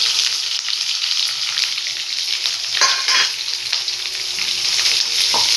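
Onions and curry leaves fry in a pan with a steady, close hiss and crackle that runs throughout, with a few brief scraping stirs.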